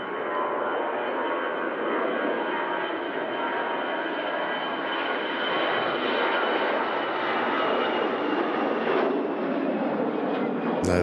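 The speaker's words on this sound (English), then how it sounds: "There's the outbound EasyJet heading out to Geneva." An EasyJet airliner departs Manchester Airport outbound for Geneva, its engines roaring steadily and loudly throughout with a broad, sustained rush.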